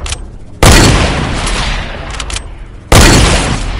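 Sniper rifle shots in the video game Fortnite: two loud, sharp blasts about two seconds apart, each trailing into a long rumbling decay, close and dominant with no voice over them.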